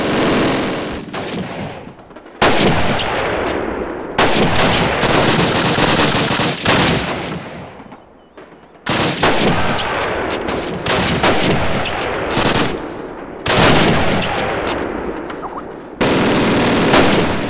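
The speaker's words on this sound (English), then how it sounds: "yes, I am shooting at people's hands, and I do not give a flip" Video game shooter gunfire in Pavlov, loud rapid bursts of automatic fire broken by short pauses and single shots, dense and close throughout.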